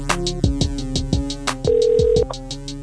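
A telephone line connects for a podcast interview call, giving a steady electronic tone that holds for about half a second, then a series of short repeated beeps, all close and clear with no talking.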